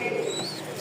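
A pigeon at a breeder's loft coos softly and briefly, close by, over faint background noise.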